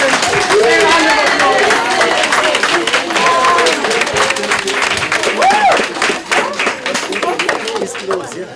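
A Youth Day audience rises for standing applause for presenters, with loud, dense clapping and crowd noise mixed with voices, tapering slightly toward the end.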